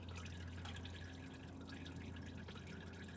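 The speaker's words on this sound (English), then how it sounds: "we'll take this out, see how much fluid comes out." Transmission fluid drains from a 2022 Toyota Fortuner transmission, a faint steady trickling and dripping under a constant low hum.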